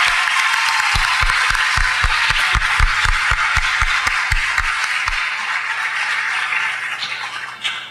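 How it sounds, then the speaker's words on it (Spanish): Audience applause at a school award ceremony for the best graduate, dense sustained clapping from a crowd in a hall, with a few louder rhythmic claps standing out early on before fading. "Un aplauso para él."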